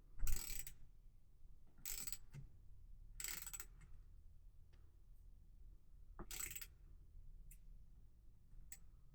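Torque tool tightening the grips on a 2025 Trek Farley 5 fat bike being converted, with bursts of ratcheting clicks in short runs separated by quiet pauses, close and faint.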